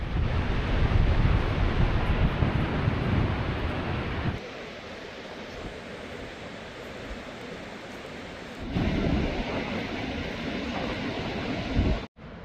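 A heavy, continuous roar of rushing water from Niagara Falls on the Canadian side fills the air, with white spray rising, steady and broadband, with brief shifts in intensity and wind buffeting the microphone.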